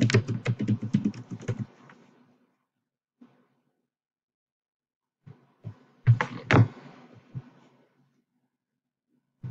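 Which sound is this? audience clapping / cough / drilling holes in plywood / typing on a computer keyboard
typing on a computer keyboard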